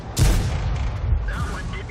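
A heavy cannon blast from an American Tier 9 T-49 light tank in World of Tanks, one deep boom followed by a rumbling tail, with someone talking over it.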